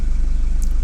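Diesel engine of a Toyota Fortuner 3.0 D-4D idling, a steady low rumble close by with no talk over it.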